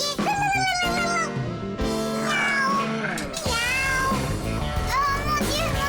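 A cartoon cat from Les Fixies gives loud, drawn-out, wavering meows that fill the moment, set against busy cartoon background sound.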